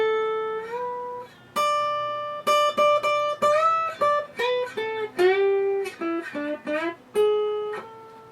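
Electric-style guitar notes slide up and down the neck while the right hand mutes the unplayed strings, giving clean separate tones with gliding pitch changes, played alone and close.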